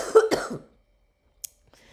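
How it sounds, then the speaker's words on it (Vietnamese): A person coughing, two quick rough coughs close and loud at the start, followed by near silence and a faint small click. "lại bắt đầu lên cơn ho"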